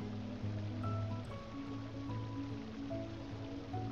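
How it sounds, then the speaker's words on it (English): Gently flowing water loops around a town in The Simpsons Tapped Out video game, a steady, soft burble under faint tonal game music, with no talking. "I love the water going around this town"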